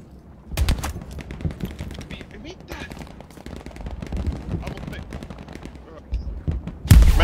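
Gunfire crackles in the World War II shooter game Hell Let Loose as scattered rapid shots and bursts, mostly moderate in level, ending with one loud close burst. A voice may be faintly mixed in.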